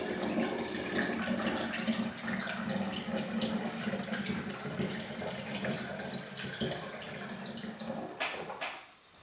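Cold brew coffee poured from a Chemex into another container, a steady close trickling stream of liquid that runs continuously and tapers off at the end.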